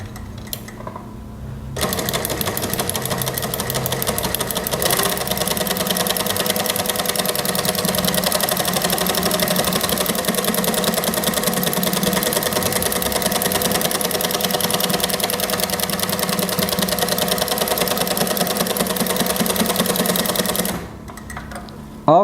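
High-speed industrial sewing machine with a buttonhole attachment stitching a child's sleeveless daster dress, a steady dense whirring and rapid needle clatter running continuously for about twenty seconds, loud and close, with no talking.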